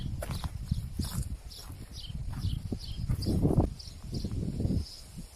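A horse's hooves clop in an uneven walking rhythm nearby on a farm in Norway, with faint birdsong and soft rustling in the background.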